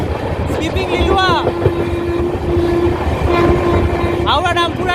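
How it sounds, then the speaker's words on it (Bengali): The Howrah-Rampurhat Sahid Express, on its first LHB run, roars through Liluah railway station with a loud rumbling rush and a sustained horn blast, while sharp squealing tones rise over the noise near the start and end. "হাওড়া রামপুরহাট শহীদ এক্সপ্রেস প্রথম তার LHB রান নিয়ে লিলুয়া রেলওয়ে স্টেশন ক্রসিং হবে।"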